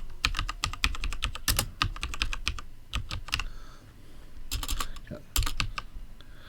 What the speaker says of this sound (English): Probably best you don't see my typing.